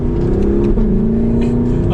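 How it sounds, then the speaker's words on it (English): A 2021 Lexus LC 500 Convertible V8 under a downshift, with a loud steady engine drone and a pitch that sags then holds, plus a few faint crackles from the exhaust pops. "We got some pops in that exhaust, especially in Sport S Plus there."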